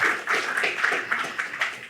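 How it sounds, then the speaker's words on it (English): Applause from a keynote audience at a tech conference, a steady wash of many hands clapping with rhythmic swells, fairly close and moderately loud, with no talk over it. "Yes, let's clap."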